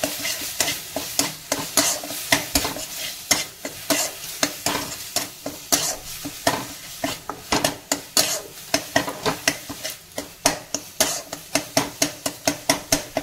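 Bottle gourd peel, sweetened with a little sugar, stirred and fried in a pan: a soft sizzle runs beneath rapid, rhythmic scrapes and clinks of a spoon against the metal, continuing close and steady throughout.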